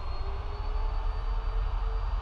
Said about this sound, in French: Donc nous poussons les moteurs